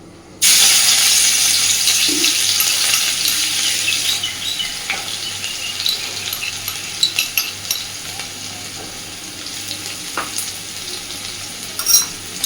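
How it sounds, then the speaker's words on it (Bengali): Crushed garlic drops into hot oil in a wok for tempering a water spinach dish, bursting into a loud, sudden sizzle that holds steady and slowly eases, with a few faint stirring clinks. "এবার আমি সবার আগে ফোড়নে দিয়ে দেব বেশ খানিকটা থেতো করা রসুন"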